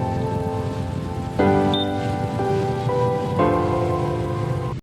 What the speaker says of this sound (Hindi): देखो बारिश खतरनाक सा हो रहा है, खतरनाक बारिश।